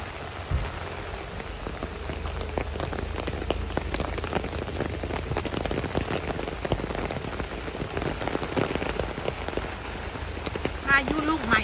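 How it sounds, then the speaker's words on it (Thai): Heavy rain pounds down during a fierce summer storm in Sydney, a constant close roar of drops striking surfaces with scattered sharper splashes. A brief faint bird-like chirp surfaces near the very end. "พายุลูกใหม่นี่มาแรงมากค่ะตกแรงด้วย"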